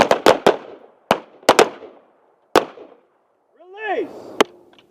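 Sharp gunshots from tactical firearms training ring out close and loud, a quick burst of three then single and paired shots with silent gaps, while a voice calls out briefly near the end.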